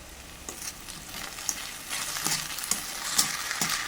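Okra stir-fry being stirred in a pan over low heat, a spatula scraping and clacking in scattered strokes over a steady soft sizzle of frying, close and moderately loud with no voices.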